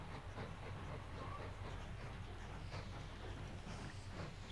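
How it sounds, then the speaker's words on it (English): A CSD 475 train runs in the railway game Mashinky, giving a soft, steady rolling rumble with faint rhythmic clicking of wheels on track, continuous and fairly quiet throughout. "The CSD 475 was our best train at this point."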